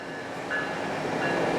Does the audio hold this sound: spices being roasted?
no